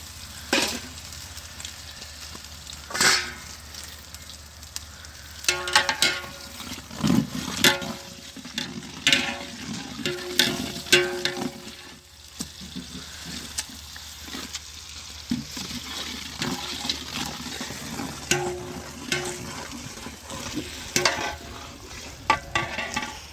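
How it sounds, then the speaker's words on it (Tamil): Onion, green chili and ginger-garlic paste sizzle and fry in a pan for mutton biryani, with a steady crackling hiss and repeated sharp stirring scrapes and clatters throughout, fairly close and with no talk. "இப்போ இந்த இஞ்சி பூண்டு பேஸ்ட் நல்லா வதங்கிடுச்சு"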